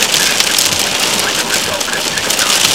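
Heavy rain and hail hammer steadily on surfaces during a supercell storm in Athens, Michigan, a loud dense unbroken roar with no pauses.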